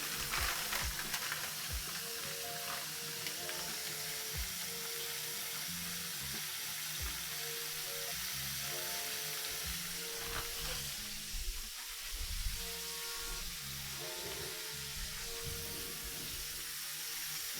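Frozen broccoli dropped into a pot of boiling water on a stovetop, a steady bubbling and sizzling hiss with splashes that runs throughout, with no talking.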